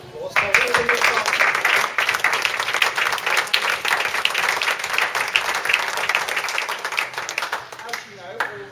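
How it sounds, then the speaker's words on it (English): Team members applaud together at a gay sports club's tournament awards in Stockholm, a steady dense clapping that fills the room for several seconds with scattered voices mixed in. "I think you should all give yourselves a round of applause."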